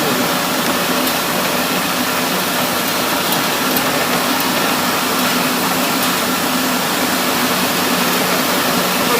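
A new 2025-model paddy destoner and rice grading mill runs steadily with a dense, continuous mechanical roar and whirring hiss, rice grain mixed with nuts and bolts passing through, loud and unbroken with no talking.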